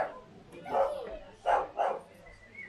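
Dogs bark three times in short, sharp bursts at moderate distance, fairly faint.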